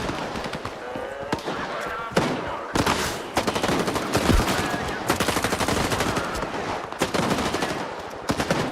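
Rapid gunfire in S.T.A.L.K.E.R. 2: Heart of Chornobyl as a boar is shot, dense crackling bursts of automatic shots repeating in quick clusters with short gaps, loud and continuous.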